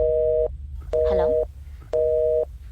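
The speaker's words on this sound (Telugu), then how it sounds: "ఏంటి కాల్ కట్ అయిపోయింది?" A telephone busy tone sounds after a disconnected call in three even half-second beeps with short gaps. A brief voice cuts in between the first two beeps.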